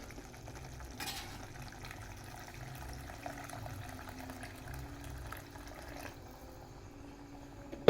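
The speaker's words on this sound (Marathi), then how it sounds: "ह्याच्यामध्ये पाणी ओतायचं आपल्याला जरा" A quiet, steady stream of water runs into a pan of fish curry, a low continuous pouring sound with a faint clatter at the end.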